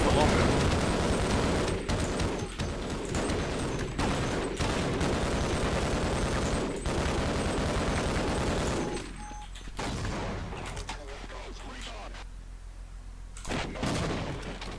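Enemies fire at the player in a shooter game, a dense, loud roar of rapid gunfire and blasts that runs on continuously before cutting back to quieter ambience with a few further bursts.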